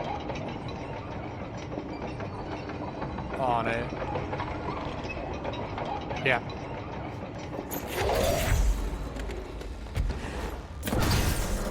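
Powered train-track machinery in the video game Control creaks and rumbles as it moves, with clanking surges and a heavy mechanical swell near the end, while a voice talks over it throughout.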